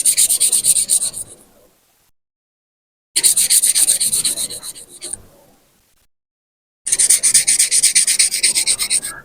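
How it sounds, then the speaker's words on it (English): Three bursts of brisk, close scratchy rubbing as a sanding stick buffs a small photo-etched metal part, separated by short silent pauses. "buff the surface with a sanding stick"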